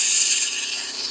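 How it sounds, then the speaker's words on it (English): Wood being sanded by hand or with a sander, a steady continuous bright rasping hiss with little variation, alone and close for about a second. "we're going to do a little sanding here on this"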